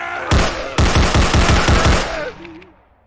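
Rapid gunfire from a weapon in the SpongeBob Massacre horror video game: a single loud blast, then a fast run of about eight booming shots close up, ending with a fading tail.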